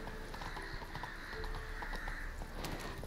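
Hooves of the horse Roach in a video game, a soft, steady clip-clop of walking hooves with light mechanical clicks, fairly quiet and close, with no talk over it.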